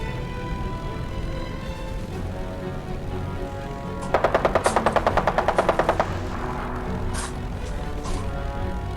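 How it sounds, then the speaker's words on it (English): A machine gun sound effect plays during a Crimson Skies tabletop roleplay session: one rapid, evenly spaced burst of about a dozen shots, loud over a low steady background hum, followed by a few scattered pops. "fire at this guy with machine guns"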